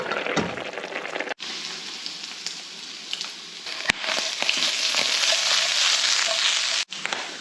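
Meat frying in a saucepan on a remote mountain farm in Portugal, a steady close sizzle and crackle that runs throughout with a few brief breaks and occasional stirring clicks.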